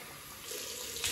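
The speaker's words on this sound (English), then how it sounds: "Cold water rinse." Cold tap water runs steadily into a sink for a rinse after a straight-razor shave, a continuous broadband splashing hiss that swells slightly near the end, with no voices.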